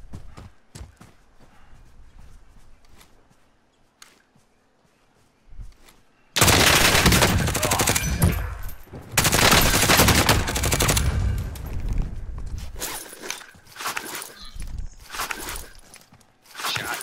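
Gunfire erupts in a Call of Duty Modern Warfare Warzone match, loud bursts of rapid shots after a quiet stretch with faint footsteps, then continuing intermittent volleys.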